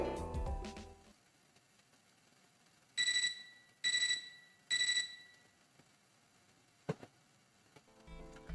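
In the video game Fate/Extra CCC, an alarm clock rings in three short bright electronic bursts about a second apart, then falls quiet apart from faint clicks.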